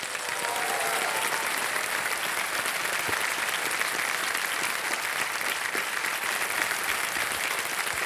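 A studio audience on a Hindi TV quiz show, KBC, applauds a contestant being handed a prize cheque, a steady, dense clapping that stays even and sustained for about eight seconds.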